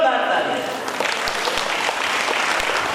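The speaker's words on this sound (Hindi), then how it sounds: "एक बार सभी भक्तों के लिए जोरदार ताली" A large devotional gathering at a religious discourse breaks into loud, sustained applause, a dense wash of clapping from many hands that stays steady throughout.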